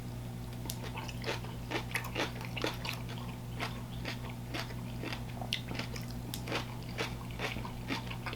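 Close, wet chewing and crunching of kimchi, with steady bites repeating throughout amid a low background hum and no talking.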